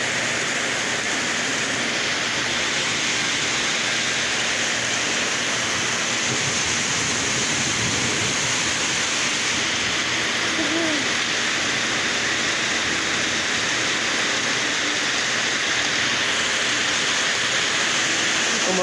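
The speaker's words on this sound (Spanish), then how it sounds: "Como acá hay granizo, ¿ves?" Heavy rain mixed with hail pours down in Quito, a dense, loud, unbroken hiss that holds steady throughout, with faint indistinct voices and passing traffic underneath.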